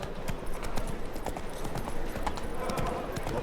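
A horse gallops in the video game The Witcher III: Wild Hunt, with rapid, steady hoof clip-clops close up over a soft background bed.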